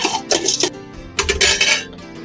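Metal utensils scrape and clatter against a steel plate or pan as freshly made masala is transferred onto a plate, a loud, close burst of clinking and scraping over about two seconds.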